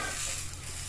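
Oil sizzles as cinnamon, cloves and mustard seeds are tempered for pulao, a brief, faint, steady frying hiss.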